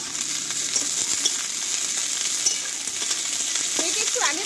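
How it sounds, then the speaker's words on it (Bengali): Cut yardlong beans hit hot oil in a pan and fry with a continuous crackling sizzle, close and even, with light stirring noises and a few faint chirps near the end. "এইবার এখানে কেটে ধুয়ে রাখা বরবটিগুলো আমি দিয়ে দেবো"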